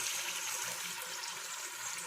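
A small splash of water poured into onion and garlic paste frying in a pan, giving a steady hiss and sizzle of liquid throughout.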